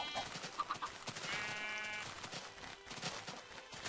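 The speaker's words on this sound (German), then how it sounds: "Wieso verfolgt das Schaf mich, wenn ich keine Weizen darauf anwenden kann?" A sheep bleats in Minecraft, a few short wavering calls near the start over a steady bed of game background sound, fairly faint and without speech.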